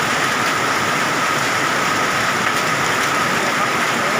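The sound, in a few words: summer hailstorm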